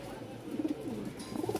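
Pigeons offered for sale coo in short, low, throaty bursts nearby, two quick phrases within a brief moment.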